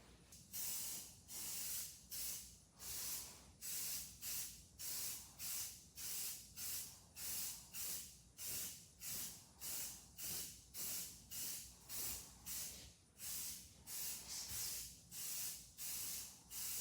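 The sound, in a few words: spraying primer on 1975 Chevy C20 front fender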